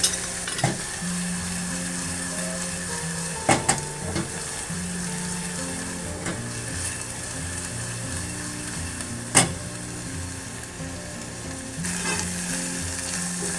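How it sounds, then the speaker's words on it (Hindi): Chopped onions sizzle and fry steadily in a pan while being cooked down for homemade pizza sauce, with a few sharp clinks of a spoon against the pan and no talking. "इसे मैं सिर्फ इतनी देर कुक करूँगी जितनी देर में ये अनियंस का वाटर जो है वो ड्राई हो जाए।"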